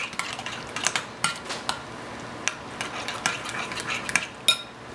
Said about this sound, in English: I'm just going to give it a little mix here as I'm putting the ingredients in